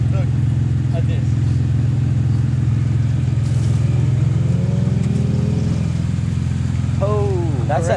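A stuck Polaris Ranger UTV revs hard with its wheels and front drive shaft spinning, giving a loud, continuous engine drone whose pitch climbs and falls in the middle. Voices are heard briefly near the end.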